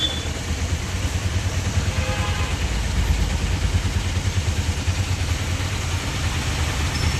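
Motorcycle and car engines idling together in a stalled traffic jam, a steady close rumble with light rattling that holds throughout, with no talking.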